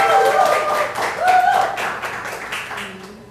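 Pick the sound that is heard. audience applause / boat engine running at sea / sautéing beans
audience applause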